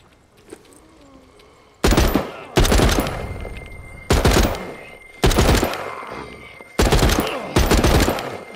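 An AR-416 rifle fires in The Walking Dead: Saints & Sinners, loud close bursts of rapid automatic gunfire in six separate volleys after a quiet start.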